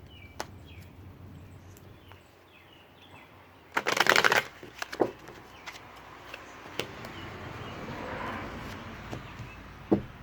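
A short burst of tarot cards being shuffled, riffled quickly, followed by a few soft taps and light handling in a quiet room.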